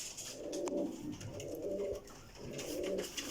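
Pigeons cooing in repeated soft, throaty phrases, three rounds of low rolling coos close by with faint background noise and no talking.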